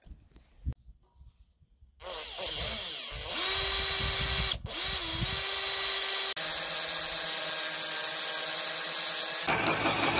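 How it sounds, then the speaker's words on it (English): A power drill spins up, bores steadily through metal with a high whine, briefly cuts out, then resumes grinding continuously through the rest. "We'll drill some holes through that."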